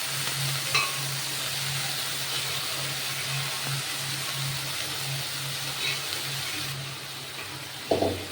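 Boiled figs are stirred into spice paste in a pan for a Bengali dish, giving a soft, steady sizzle with light scraping and a low continuous hum, quiet and close with no talking.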